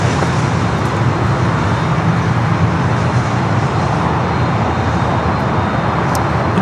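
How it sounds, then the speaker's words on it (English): A Delta Boeing 737-800 from Puerto Vallarta lands at Los Angeles International Airport with a loud, steady broadband jet roar that holds constant throughout and no talking. "Is a Delta flight coming up from Puerto Vallarta. Coming in from Mexico, 737-800 there in front of that A330."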